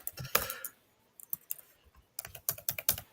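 Bursts of keystrokes on a computer keyboard during a DevOps coding session, clustered clicks with short pauses between runs, fairly close and crisp, no talking.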